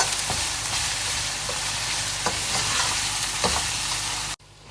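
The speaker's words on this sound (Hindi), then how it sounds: "ये सारे स्पाइसेस और इसको अच्छे से मिक्स करके भून लेंगे।" Spices for matar pulao are stirred and fried in a pan, with a steady dense sizzle and repeated scraping strokes of the spoon. The sizzle stops abruptly near the end.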